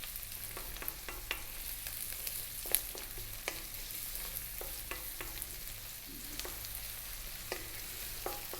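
Onion and garlic fry in a pan over medium heat with a steady close sizzle, broken by frequent sharp pops and crackles and faint scraping as the pan is stirred.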